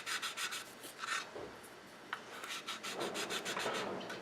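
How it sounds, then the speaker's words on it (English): Rapid back-and-forth rasping strokes of a sanding stick on a small plastic part of a Tamiya M41 Walker Bulldog model kit, close and rhythmic, pausing briefly in the middle before resuming. "Now you have to be careful with the sanding stick."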